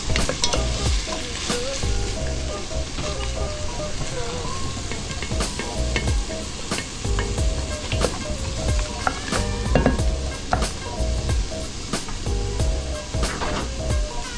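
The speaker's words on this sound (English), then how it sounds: "I'll mix those around. Let the pumpkin cook a little bit so it's not too mushy in the rice." Pumpkin pieces cooking in a pot for pumpkin rice, a busy close sizzle and bubbling under repeated stirring and scraping strokes, with sharp clicks of the spoon against the pot and no talk.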